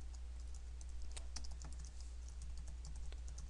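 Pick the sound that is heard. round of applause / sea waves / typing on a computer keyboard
typing on a computer keyboard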